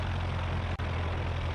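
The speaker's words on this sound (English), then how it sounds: "Is that engine too loud?" A glider's engine runs loud and steady during taxi, a constant close drone with a deep low hum and broad roar, interrupted by a single brief dropout midway.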